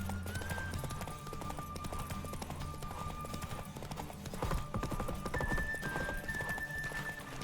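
Horse hooves gallop in a steady clip-clop rhythm with occasional neighs in The Witcher 3, layered over game music at a moderate, even level.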